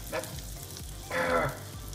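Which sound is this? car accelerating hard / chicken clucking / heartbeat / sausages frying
sausages frying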